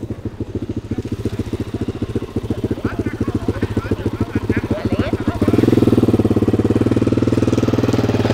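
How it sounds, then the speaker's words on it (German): A motorcycle engine runs at a greyhound coursing field while it lays out the lure line, with a rapid rhythmic chugging idle that swells louder and rougher near the end and stays close throughout. "Das Motorrad hat schon wieder die Leine ausgelegt."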